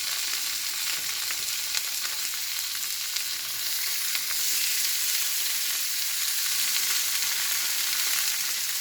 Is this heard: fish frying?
yes